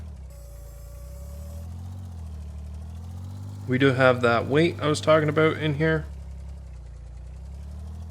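A tractor engine idles in Farming Simulator 19 as a steady, low, droning rumble that runs throughout, with someone talking briefly over it partway through.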